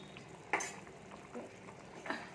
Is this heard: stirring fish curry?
yes